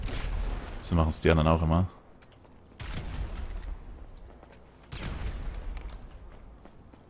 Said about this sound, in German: Ich werfe jetzt einfach mal Granaten überall hin.